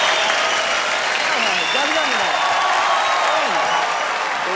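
Studio audience applause and cheering on a comedy talk show, a steady dense crowd roar that holds for the whole stretch, with a voice speaking over it.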